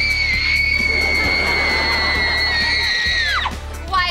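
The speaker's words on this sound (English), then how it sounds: "Why did we just scream?" A group of people scream together in one sustained, loud, high-pitched cry that holds for about three seconds before breaking off and falling away.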